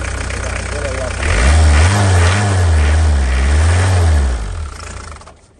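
Engine of a 1998 Ford Escort 55 D diesel van, an ex-Royal Mail vehicle, idles and then is revved close by in a few rising and falling blips before dropping away as it is switched off, with someone talking over it.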